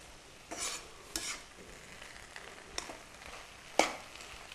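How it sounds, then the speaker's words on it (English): Spoon stirring cooked basmati rice in a pot, a few soft scraping strokes and light clinks spaced apart, faint and close with no voices. "Now you can blend the rice."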